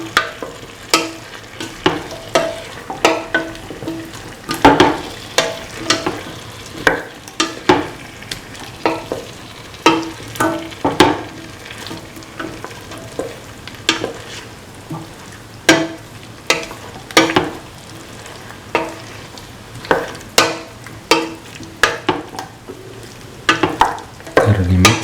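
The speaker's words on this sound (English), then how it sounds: "Mix all ingredients thoroughly for 1 to 2 minutes so that the taste of the veal and the beef is nicely incorporated" A mixture of veal and beef stew is stirred in a sizzling pan, with a spoon scraping and clacking in a steady rhythm of repeated strokes over a constant frying hiss, close up and without speech.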